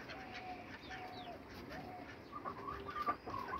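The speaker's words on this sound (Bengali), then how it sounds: "এই যে হাঁসেরা পজিশন নিচ্ছে, তারা গোসল করবে।" Ducks kept on a rooftop give faint, short calls in a loose, irregular series. The calls are quiet and distant over light background noise.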